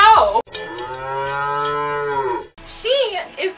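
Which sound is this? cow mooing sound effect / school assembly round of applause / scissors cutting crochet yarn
cow mooing sound effect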